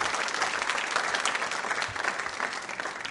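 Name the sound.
audience applause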